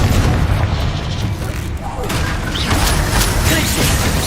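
Fiery Confringo spell blasts in Hogwarts Legacy combat, dense booming bursts and crackling impacts layered over each other, with a voice calling out spell names over the din.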